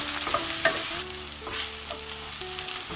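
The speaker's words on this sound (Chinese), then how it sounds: "再放入蘑菇，翻炒5分钟左右" Mushrooms stir-fried in a hot wok for a mushroom and greens dish, steady loud sizzling with repeated scraping strokes of the spatula against the pan.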